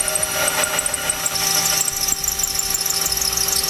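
A power drill bores out an existing hole through several layers of spot-welded metal on a 2011 Honda CR-V during base plate installation, giving a steady high-pitched squealing whine that runs continuously and close up.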